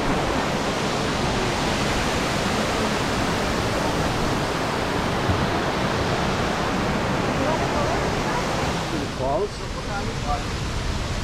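Bridal Veil Falls in the Pocono Mountains of Pennsylvania pours as loud, steady rushing water, a dense continuous roar heard up close, with faint voices near the end.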